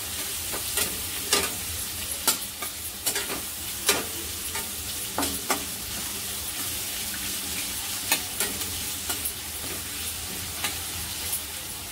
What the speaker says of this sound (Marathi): तो पण छान फ्राय करायचा, तेलावर मस्त असा परतून घ्यायचा आपल्याला